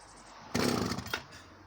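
An Echo CS500EVL or Danarm 1-71SS chainsaw gives a short, loud, rough burst of engine noise that rises abruptly, falters and dies within about a second, with quiet before and after.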